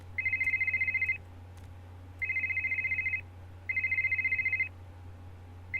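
A telephone rings three times in a video game, Art of Murder. Each ring is a bright, repeated electronic trill about a second long, separated by short pauses, with a low steady hum underneath and no speech.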